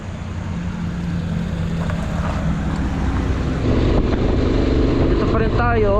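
A Yamaha Aerox scooter on the road, its engine slightly rattly and loud, a steady close drone mixed with wind rush.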